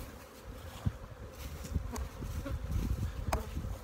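Bees buzz densely all around, their low drone thick and continuous, with individual insects whizzing close past now and then. No one speaks.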